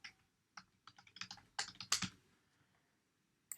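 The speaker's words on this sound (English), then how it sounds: "you just need to type in your My NMSU username and password" Typing on a computer keyboard while entering a university username and password, heard as irregular bursts of close, crisp key clicks with short pauses, then quiet.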